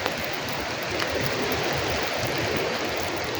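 Sea waves washing against a shore make a steady, broad roar that fills the background evenly without distinct breaks.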